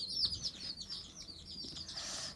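Small birds chirp and tweet in quick, bright bursts in a cold village morning by a wood-fired clay stove, the calls fairly close and continuous over a low outdoor hum with no talk.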